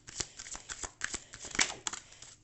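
Oracle cards being shuffled, with a dense run of crisp flicking and riffling card sounds that rise into a louder burst near the end, close up, with no talking.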